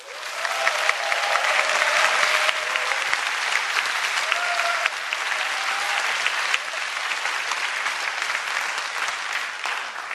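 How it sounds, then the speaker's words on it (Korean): A lecture audience gives sustained applause, loud, dense clapping that fills about ten seconds without a break. "다 같이 나를 위해서 박수 한번 칠게요"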